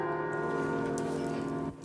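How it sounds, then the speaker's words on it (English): Church bells ring in Nottingham city centre during a vigil, a sustained resonant tone with lingering overtones that hums steadily before dropping away near the end, moderately loud with no talking. "the bells are sounding in Nottingham city centre"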